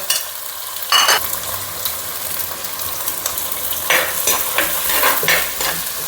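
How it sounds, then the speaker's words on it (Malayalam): Garlic, green chillies and curry leaves frying in a pan, a close sizzle broken by several scraping stirs of the spatula and a few sharper crackling bursts, with no talking. "വെളുത്തുള്ളി, പച്ചമുളക്, ഇതെല്ലാം അതിലേക്ക് അങ്ങ് ചേർത്ത് കൊടുക്കുക കേട്ടോ. എന്നിട്ട് അതൊന്ന് മൂപ്പിക്കുക."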